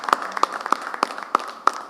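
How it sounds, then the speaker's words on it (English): Rhythmic audience clapping at a music festival grand finale, about six evenly spaced claps in under two seconds over a light background hum. "The clapping should continue."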